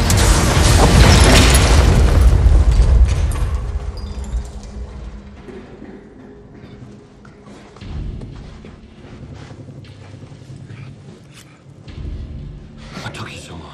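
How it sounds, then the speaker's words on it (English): A grenade explodes in a film action scene with a loud, sustained boom for several seconds, followed by falling debris, clinks and lower rumbling aftershocks; there is no talk. "grenade!"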